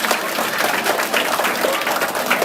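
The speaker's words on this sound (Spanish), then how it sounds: "Y van dar un fuerte aplauso a los amigos" A group at a school claps for friends, giving a short burst of brisk, fairly loud applause that stays even throughout with no talking over it.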